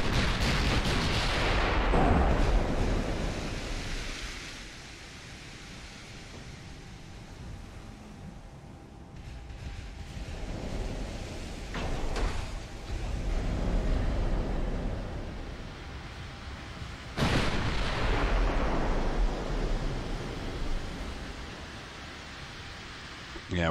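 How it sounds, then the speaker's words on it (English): Battleship main guns boom in a naval battle in the game Ultimate Admiral Dreadnoughts, several heavy blasts roughly every few seconds, each followed by a long rumbling tail over a constant sea and engine wash. "Now let's get our big guns firing on this battle cruiser."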